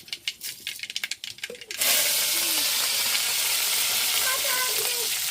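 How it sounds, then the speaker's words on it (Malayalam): Mustard seeds and fenugreek sizzle in hot coconut oil for tempering, a sudden loud, steady frying hiss that starts partway in after some quieter clatter, with faint popping over it. "ഇനി നമ്മൾ താളിക്കുകയാണ് വെളിച്ചെണ്ണ വെളിച്ചെണ്ണ ഒഴിച്ചിട്ടുണ്ട് കടുകും കുറച്ച് ഉലുവയും കേട്ടോ"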